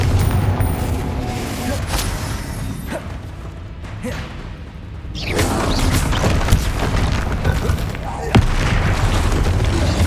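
Repeated Confringo fire spell blasts in Hogwarts Legacy on PC, dense booming explosions and crashes over a constant busy game soundscape, with a sharp loud burst near the end.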